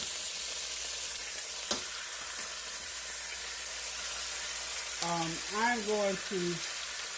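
Asparagus sizzling in butter and oil in a frying pan, a steady soft crackling hiss throughout with a single sharp clink early on, and brief squeaky scraping near the end as the spears are turned.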